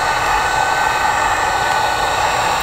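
Heat gun blowing hot air over plastic tape, giving a loud, steady close-up roar that runs without a break through the whole moment.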